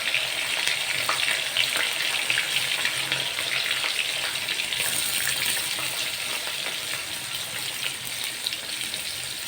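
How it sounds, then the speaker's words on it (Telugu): Pieces of bitter gourd deep-frying in hot oil, a dense continuous hiss and crackle that holds steady and loud throughout, close by, with no voices. "ఈ ఆయిల్ బాగా కాగాక ఒక్కొక్కటిగా ఈ కాకరకాయలన్నింటినీ ఇందులో వేసుకోవాలి."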